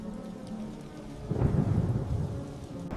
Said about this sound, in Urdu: ہوا میں لمحوں کی دیر سے گرجتی ہوئی بادلوں کی آواز اور بارش کے قطرے